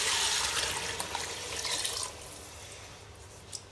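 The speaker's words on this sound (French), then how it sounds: "Et je mets 2 litres d'eau." About two litres of water are poured into a pot for a fish and vegetable soup. A steady, close splashing stream runs for about two seconds, then eases to a softer trickle, with no talk.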